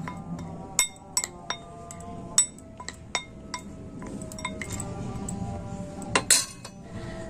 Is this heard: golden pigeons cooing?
no